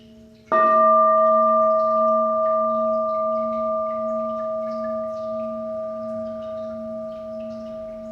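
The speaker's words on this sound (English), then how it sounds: "Let the sound of the bowl just wash over you." A meditation singing bowl is struck once and rings on, a clear pure tone with a long, slowly fading sustain in a quiet room.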